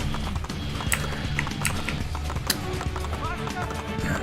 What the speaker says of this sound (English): Get back on the horse, please, Ezio.